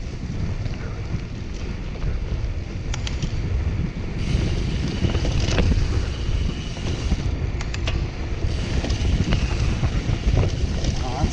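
Gravel bike coasting fast downhill on singletrack, with loud steady wind roar buffeting the microphone throughout, plus occasional rattles and clicks from the trail surface.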